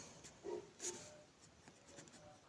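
Pen writing on paper during a Class 10 maths lesson, faint, soft scratchy strokes in short bursts in a quiet room, with no talking.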